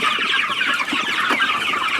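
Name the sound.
meat chickens clucking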